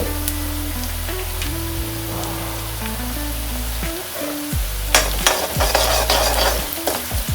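Garam masala, cumin and coriander powder get stirred into a sizzling pan of dum biryani base, steady frying hiss with spoon scrapes, growing busier and clinkier toward the end.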